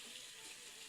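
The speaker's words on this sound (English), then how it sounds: "just run the cold water for a bit" Cold water runs from a kitchen tap into a sink while pasta is being cooled, a soft steady hiss and splash, faint and unbroken, with no voices.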